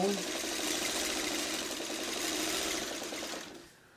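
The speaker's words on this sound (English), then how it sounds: "I just line them up, kind of randomly sew them, and, you know, off we go" A sewing machine stitches quilt pieces together, a fast even mechanical rattle running for about three seconds before stopping, close and moderately loud, with a voice speaking over it.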